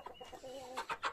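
Araucana chickens and a rooster inside a henhouse, giving soft clucks and murmuring calls close by, ending in a few louder, rising squawks.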